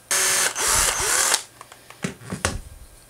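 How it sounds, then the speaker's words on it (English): A power drill whirs in two loud bursts, its pitch wavering as it drills a 3/8-inch hole into a wooden fishing lure, followed by a few scraping clicks and handling knocks. "And that means I'll have to drill a 3/8 hole."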